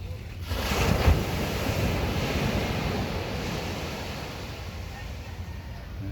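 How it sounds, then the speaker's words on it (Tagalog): Steady broadband roar of ocean waves and surf with wind buffeting the microphone, continuous throughout with no clear individual wave breaks. "malaki pa rin ang alon kahit nakakalmada siya malaki pa rin ang alon"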